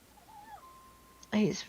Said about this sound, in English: Such a robust cat, and he has so much to say, so dramatically.